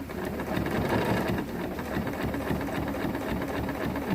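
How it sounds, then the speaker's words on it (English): Sewing machine stitching a Costco down throw into an underquilt, running in a steady fast continuous whir at close range, alone. "You don't want to go through with your pin because you'll damage your needle of the sewing machine."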